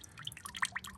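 Clear water drips from the sump drain of a 1926 Fordson F tractor, a quick run of close, bright plinks landing into a container.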